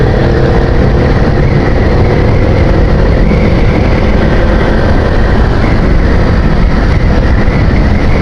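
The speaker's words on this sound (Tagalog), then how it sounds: "Gamit pala natin ngayon na motor ay Click 125." A two-year-old Honda Click 125 scooter-style motorcycle on a Sunday morning ride makes a loud, unbroken roar of wind rush and engine drone that stays steady from start to finish.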